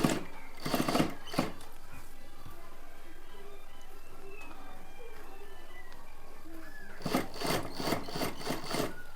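A sewing machine stitches the front edge of a plain blouse, with short mechanical bursts at the start and end around a quieter stretch of room noise.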